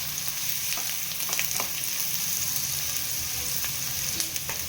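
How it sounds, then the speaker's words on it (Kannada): Chopped onion and capsicum fry steadily in a pan, a continuous close sizzle with occasional sharper crackles and the light clink of stirring, no voices. "ಈರುಳ್ಳಿ ಫ್ರೈ ಆದಮೇಲೆ ಚೂರು ಕ್ಯಾಪ್ಸಿಕಮ್ ಕಟ್ ಮಾಡಿ ಇಟ್ಕೊಂಡಿದ್ದೆ"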